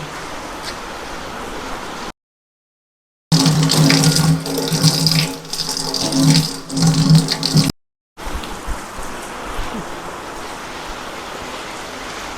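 A tap runs in a strong, splashing stream over curry leaves held under it, between quieter stretches of running water.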